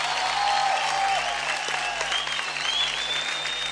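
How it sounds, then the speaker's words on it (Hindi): Sustained applause from a large crowd for the finalists of a televised dance competition, steady and loud throughout with dense overlapping clapping and no pauses. "जोरदार तालियां हो जाए हमारे चारों फाइनलिस्ट के लिए"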